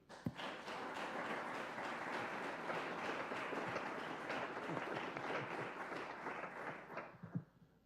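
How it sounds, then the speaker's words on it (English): Sustained audience applause at a conference after a panel discussion, dense and steady for several seconds before tapering off at the end. "Big applause to you."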